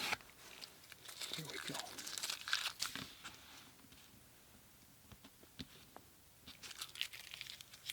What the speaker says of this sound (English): So I'm just lifting off the tape.